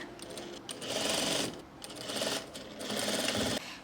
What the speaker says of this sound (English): I'm going to stitch this to the right side of the neckline all the way around, just as you would normally apply bias tape.